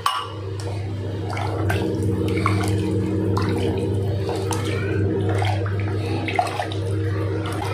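Water pours steadily into a pot for cooking rice, a continuous splashing rush, accompanied by a low constant hum in the background.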